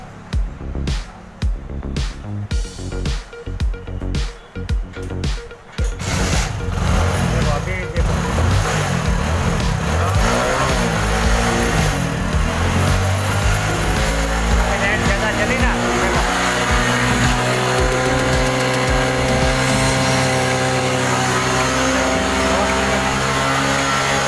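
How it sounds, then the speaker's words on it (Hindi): A Hero HF Deluxe motorcycle with a drained battery cranks in a series of rhythmic bursts, then fires and settles into a loud, steady idle that carries on close by for the rest of the clip. "देखो अभी बाइक स्टार्ट कर रहा है"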